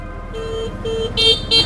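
A car horn honks from a vehicle behind on a road, several short beeps spaced apart over low traffic rumble and engine noise.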